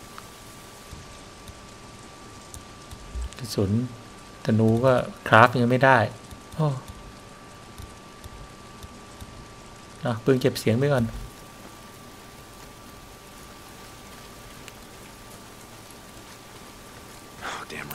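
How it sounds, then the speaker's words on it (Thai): Steady, soft rain falls throughout a scene in the video game Days Gone, a constant hiss under a man's intermittent speech. "if it's not the freaks it's the goddamn rain"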